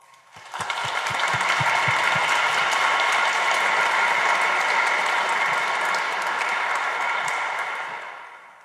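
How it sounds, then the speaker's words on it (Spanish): An audience applauding at a book presentation, a dense, even roar of clapping that swells in quickly after a few separate claps, holds strongly, then tapers off. "Agradecemos, Padre Armando, le damos un aplauso."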